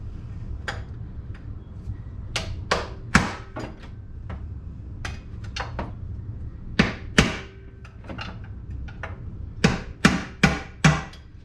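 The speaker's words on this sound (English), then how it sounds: "This is my one that I hammer with all the time" Hammer blows ring out in uneven bursts, about a dozen sharp metallic knocks on a Honda oil filter housing, some in quick pairs, over a low steady background hum.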